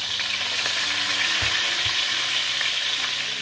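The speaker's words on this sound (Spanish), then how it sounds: "mientras doramos el pollo" Chicken pieces browning in a pan with onion close by, giving a loud, steady sizzle and crackle throughout, with a couple of low thumps from the pan or utensil near the middle.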